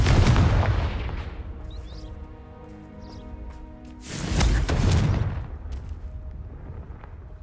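Two booming Confringo blasting-spell explosions in Hogwarts Legacy, each a loud burst that rolls into a fading rumble, the second hitting a few seconds after the first.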